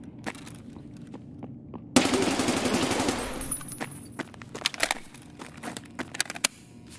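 A sudden loud burst of sustained automatic gunfire in Escape From Tarkov, a rapid rattling volley lasting over a second, followed by scattered shots, clicks and movement sounds.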